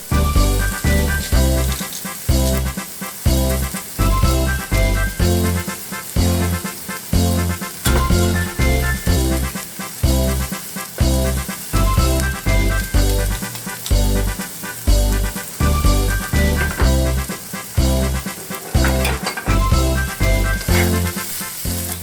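Garlic and other ingredients sauté in a pot for one-pot cheese steak spaghetti, a loud close sizzle pulsing in a steady rhythm as the food is stirred, with no talking.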